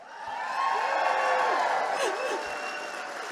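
A rally audience cheers and whoops, swelling into a loud mix of shouting voices and scattered clapping that holds steady before easing slightly.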